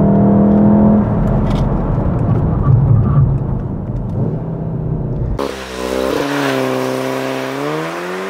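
Volkswagen Golf R launched hard with race mode on and ESP off: a loud engine held near 4000 rpm on the brake, then a sharp surge as it pulls away, revs climbing steadily through the gears, close and powerful.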